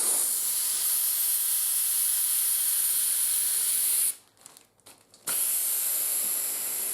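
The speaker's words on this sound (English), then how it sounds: "to fill the balloon with helium, you're just going to press this spout down and it'll release automatically" Helium rushes from a tank spout into a balloon as a loud, close, steady hiss. It stops abruptly for about a second and then resumes just as strongly.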